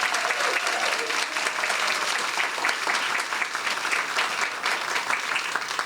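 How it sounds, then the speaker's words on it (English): An audience at a school board meeting claps in sustained, lively applause, a dense crackle of many hands that holds steady for several seconds. "Please give her a round of applause"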